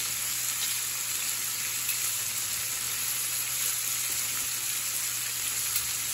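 Shrimp fry in a pan for linguine shrimp scampi, a steady, even sizzle with fine crackle and a low hum underneath, no voices.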